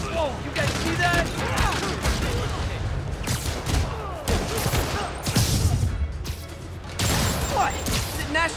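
Rockets fire in rapid volleys in the Spider-Man PS5 video game, loud whooshes and booming blasts come one after another, mixed with game music and bursts of speech.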